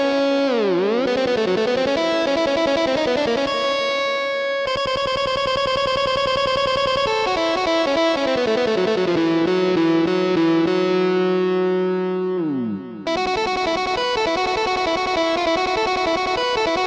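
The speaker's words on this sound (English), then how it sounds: "link the two effects together, so the amp plays through the delay" Synthesized tones routed through an amp effect into a delay effect in OpenMPT, with distorted, buzzy sustained notes, gliding pitch sweeps and echoing repeats, loud and continuous for the whole stretch.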